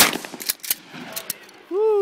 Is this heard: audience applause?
no